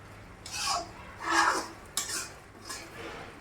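Potatoes stirred with spices in a pan, heard as several close, distinct scraping and clinking strokes of a utensil against metal, separated by brief pauses.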